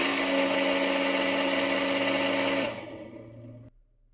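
A failing pool pump motor runs with a loud, steady mechanical whine and buzz, then is switched off and spins down over about a second before falling silent.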